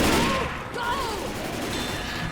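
Dense, loud gunfire from a Left 4 Dead 2 zombie shooter session, sustained bursts of shots with game effects, a voice briefly heard over the battle noise.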